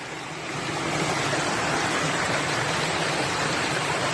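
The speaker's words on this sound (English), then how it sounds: "This is just rain runoff." Rain runoff water rushes down a steep hiking trail in fall in Maine, a steady, broad, close wash of flowing water that swells up in the first half second and then holds continuously.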